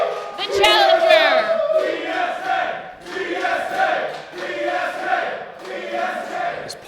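A wrestling crowd roars and chants loudly as the challenger enters for the Create a Pro Championship bout, a dense, sustained wall of voices swelling and pulsing in waves.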